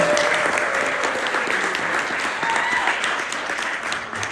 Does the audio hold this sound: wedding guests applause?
yes